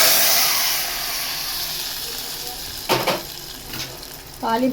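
Hot tempering is poured into tamarind lentil dal, setting off a loud, close sizzle that slowly fades into a steady hiss, with a few clinks of a utensil near the end.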